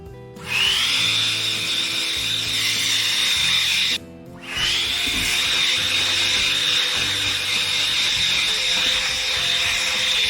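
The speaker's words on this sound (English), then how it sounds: "I have one of these electric dusters, so I'm going to use this to clean the hair off the hide." An electric air duster blows hair off a tanned deer hide, a loud steady high-pitched whir running nearly throughout with one brief cutoff partway before it resumes.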